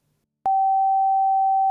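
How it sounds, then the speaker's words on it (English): A synthesized sine wave tone starts abruptly after a short silence and holds at one steady pitch, loud and pure, with no wavering until the end. "we're now able to create reliable individual tones"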